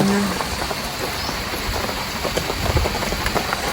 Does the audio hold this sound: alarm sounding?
no